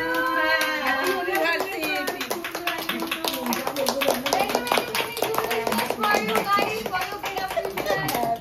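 A small group claps hands at an anniversary celebration, a steady rapid patter of claps that runs throughout while several people talk and call out over it.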